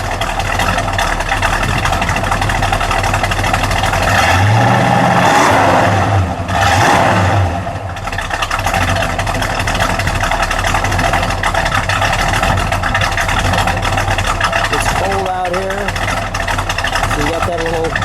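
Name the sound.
V8 muscle car engine rumbling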